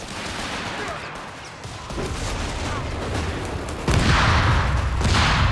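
Grenades explode amid a Company of Heroes 3 infantry firefight in a 2v2 match, with heavy blasts over constant crackling gunfire that grows louder toward the end.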